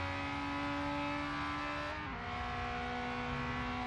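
A Ferrari F355 Berlinetta engine in Forza Horizon 3 holds a steady, close drone with a brief dip in pitch midway, then settles back into a continuous hum.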